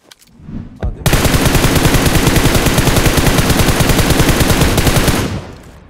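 Sustained automatic gunfire from the battle royale game PUBG Mobile erupts after a short lead-in and fires as a loud, rapid, unbroken burst for about four seconds before cutting off.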